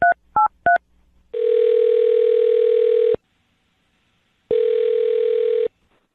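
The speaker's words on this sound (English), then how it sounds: "I'm going to dial her phone number right now" A telephone being dialed: three quick keypad tones, then a steady electronic tone that holds for about two seconds, goes silent, and returns for another stretch, clear and close.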